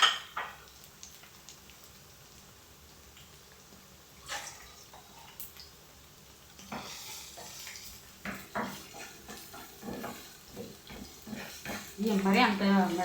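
Onion and green chillies drop into hot oil in a pan and fry, giving soft sizzling and clattering stirring against the pan, rising louder toward the end, with intermittent talk.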